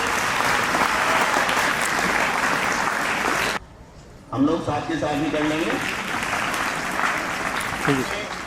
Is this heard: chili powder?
no